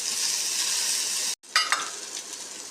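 Chopped tomato sizzles in a hot pan with garlic and cumin, a steady close frying hiss that cuts out briefly, then returns with a brighter crackle as the pieces hit the oil.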